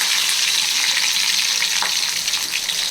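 Chopped garlic fries in hot oil with mustard seeds and curry leaves for tomato thokku, producing a loud, dense, unbroken sizzle with faint crackles throughout.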